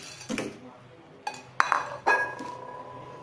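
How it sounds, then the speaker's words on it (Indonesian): Hot and sweet fried chicken wings being stirred in a pan: a utensil scrapes and clinks against the metal in a few scattered, fairly quiet knocks and rings. "Kita aduk rata."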